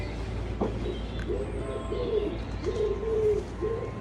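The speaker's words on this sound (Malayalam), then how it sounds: "ആ പക്ഷിയുടെ ശബ്ദം ഈ മെഷീൻ കേൾപ്പിക്കും" Played-back bird calls: a short chirp followed by a series of soft, low cooing notes repeating at a steady pace over faint background hiss.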